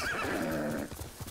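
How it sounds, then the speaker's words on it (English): A horse in the video game Ghost of Tsushima gives a loud, close whinny that tails off into soft hoof clip-clops and snorts, lasting about a second. "Where's my trusty steed? Good horse."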